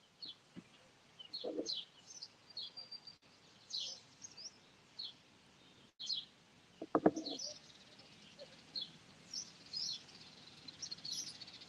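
Many birds calling outdoors in windy weather, scattered high chirps and tweets from several directions, fairly distant and faint, with a brief low burst of a nearby voice partway through.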